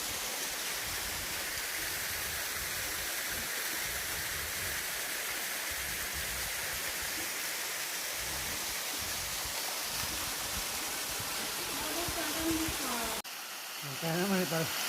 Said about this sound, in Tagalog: Finally, we arrive at the first main point of this hike, the Surak Falls.